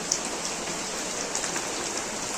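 Steady, hissing rainfall with dense patter of drops on a surface as rain leaks into a house, continuous and close, with occasional brighter drips standing out.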